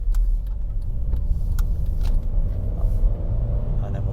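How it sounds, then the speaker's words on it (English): A car approaches along a narrow country road, a low engine-and-tyre rumble that swells gently and stays fairly distant throughout, with faint clicks on top and no talking. "there's a car coming now, so I'm going to wait for him"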